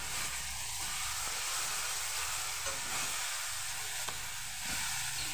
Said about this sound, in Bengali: তারপর মশলাগুলো দিয়ে দেব এখন, আর একটু ভেজে নেব মশলাগুলো ভালোভাবে।